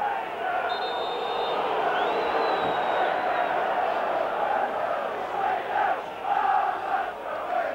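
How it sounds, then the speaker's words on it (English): A football derby crowd chants and cheers in a stadium, a broad roaring wash of many voices with surges and a shrill whistle, heard from a distance with a faint commentator under it. "Well, the crowd in good voice, as you can hear."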